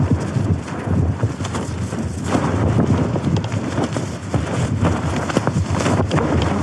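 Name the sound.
wind blowing through valley at camp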